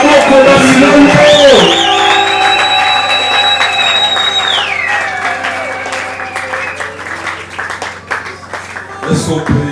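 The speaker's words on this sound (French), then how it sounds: "Apôtre Léon Mambaye, nous allons l'encourager dans nos acclamations." Church congregation applauding and acclaiming, loud sustained clapping and cheering with shouts mixed in, while a sung or held tonal note rises then drops away near the start; full and close throughout.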